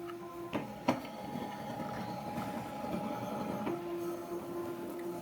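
A Ninja AutoBarista coffee machine making a cappuccino gives off a steady mechanical hum and whir, with a few clicks near the start and a brief pitched tone toward the end, fairly close and with no voices.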